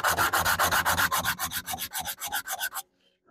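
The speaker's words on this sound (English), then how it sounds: "I have to sand this if I want to adjust that shape, that angle." Wood being sanded by hand for a deck box to reshape an angle, a fast steady run of rasping back-and-forth strokes, close and bright, then stopping abruptly into near silence.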